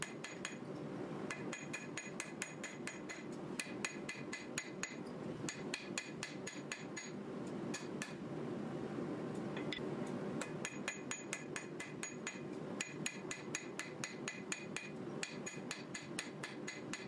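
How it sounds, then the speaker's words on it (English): A hammer forging a Damascus steel blade made from saw chips, with the peen side drawing the metal out and then blows on the edge. Sharp ringing strikes come in steady bursts with brief pauses, loud and close, with no talk. "using the peen side of the hammer, try and draw that out, and then hammering on the edge"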